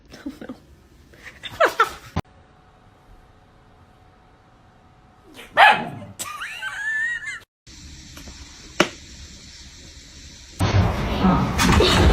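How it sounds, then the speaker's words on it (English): A dog lets out a tiny, high, meow-like squeak, brief and wavering, set among scattered wheezy breaths, clattering noises and short bursts of other sound in a funny animal scene. "That tiny meow coming from a dog is the kind of surprise you simply can't plan."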